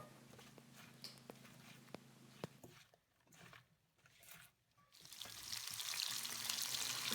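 Sliced onions deep frying in hot oil crackle and pop softly, drop briefly to near quiet, then a loud, steady sizzling hiss rises and holds.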